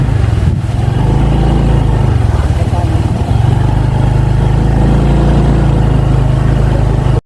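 A motorcycle engine runs with a loud, steady low rumble close by, droning continuously with slight variations before cutting off abruptly at the end.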